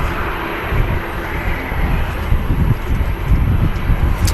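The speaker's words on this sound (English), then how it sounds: "Lufthansa A321 from Dublin to Munich." A Lufthansa Airbus A321 airliner flying from Dublin to Munich makes a steady, broad jet roar with some wind buffeting.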